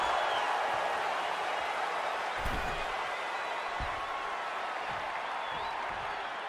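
Steady, broad crowd roar fills a WWE 2K23 wrestling arena throughout, with a few dull thuds from the ring beneath the sustained noise.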